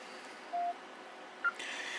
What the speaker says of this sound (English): that buzzing is actually my watch saying it's been disconnected